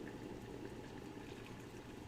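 Boiling water is poured onto a tea bag with a Da Vinci sugar-free syrup, giving a faint, steady liquid pour that runs without a break for about two seconds, with no voices.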